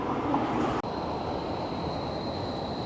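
An Amtrak passenger train rumbles steadily at close range at Portland's Union Station, with a continuous hiss and a faint high whine, after a brief cut near the start.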